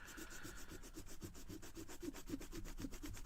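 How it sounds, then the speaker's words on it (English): Fingers press tightly and rub hard on an item being checked for authenticity, making a steady, rhythmic scrubbing that repeats quickly and evenly at close range with no talk. "we're holding it tight with both fingers, and we're rubbing very hard on here the best we can"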